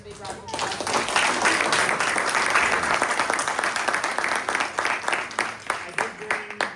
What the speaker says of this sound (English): Let's give our guests another big round of applause.